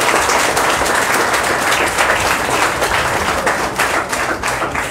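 Loud, close applause from an audience honoring students selected in state exams, a dense steady patter of clapping with some sharper individual claps and no talk.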